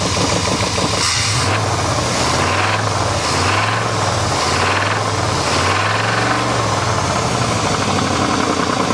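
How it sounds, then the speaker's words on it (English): A 1988 Chevrolet truck engine revs up and drops back several times in a steady cycle, with a rough rod and crank knock clattering underneath the loud mechanical roar. "This thing definitely has some rod knock and crank knock."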